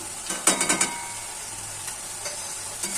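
A spoon scrapes and stirs through a pan of masala being fried with salt, turmeric and chilli powder for an egg curry, a few quick clattering strokes over a steady soft sizzle.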